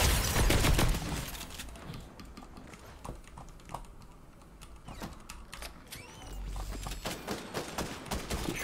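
Rapid bursts of sniper and gun fire in a multiplayer shooter game ring out in clusters of sharp cracks, loudest at the start and returning near the end, with quieter clicking in between.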